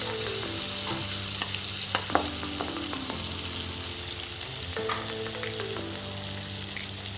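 Tomatoes and onions sizzling in a pan for a pork curry with colocasia stem, a loud steady frying hiss with scattered stirring scrapes and clinks, close up and without talk.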